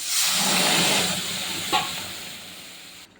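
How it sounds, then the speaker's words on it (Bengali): Dal poured into spiced oil with tomatoes, salt and turmeric in a frying pan makes a steady steamy hiss that swells at first, gives one sharp spit midway, then fades toward silence. "এখন ডালটা দিয়ে দেবো।"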